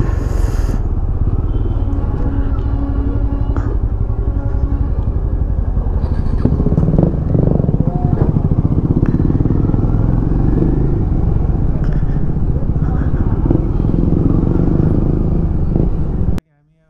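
A Benelli motorcycle on a group ride along hill roads from Siliguri to Kurseong via Mirik, its engine a loud, close, steady drone with wind rush and road rumble that carries on throughout before cutting off abruptly.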